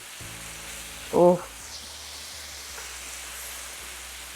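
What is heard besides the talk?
butter sizzling in a hot pan with steak bites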